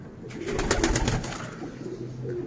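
Golden pigeons coo nearby in a soft, low, throaty rumble that rises and fades over a couple of seconds, with a quiet background.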